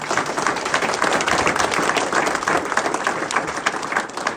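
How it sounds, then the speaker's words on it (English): Applause from an audience at a school opening event, a dense, fairly close burst of many hands clapping with crisp individual claps standing out, steady for about four seconds. "Round of applause for them."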